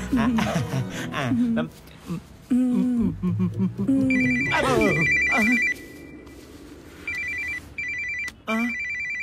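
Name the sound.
telephone ringing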